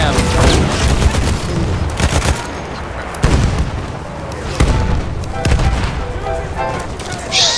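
Battlefield 1 combat on Monte Grappa with gas grenades going off: loud, dense bursts and booms keep firing amid heavy gunfire, with repeated sharp blasts over a constant roar of battle.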